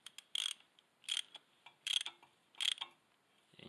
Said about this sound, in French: je vais déjà prendre mon cliquet classique pour l'amener au contact